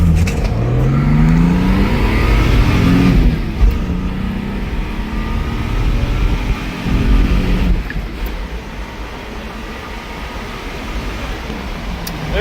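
A Japanese import car accelerating hard from 0 to 100, engine rising in pitch through the gears with audible shift breaks, heard loud from inside the cabin, then settling to a steadier cruising drone.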